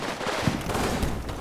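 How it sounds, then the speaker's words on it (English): A mortar firing in the war game Combat Mission: Fortress Italy, a couple of muffled low thumps standing out from a dull, rumbling battle backdrop, fairly faint and without talk. "There goes my mortar."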